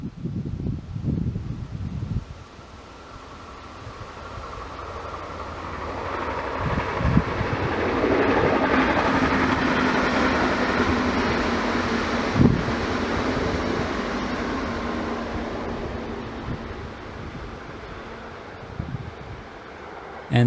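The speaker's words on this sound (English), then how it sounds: "The regional S-Bahn passing by slowly." A Deutsche Bahn regional S-Bahn train rolls past slowly, a steady broadband rumble and wheel hiss swelling mid-clip with a faint tonal whine, then easing off as it moves away, with some wind on the microphone.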